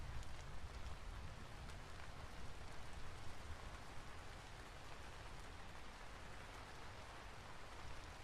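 Steady rain falls in a video game, a dense, even patter of drops spread across the whole stretch with no pauses, moderately quiet and alone without any voices or other movement sounds.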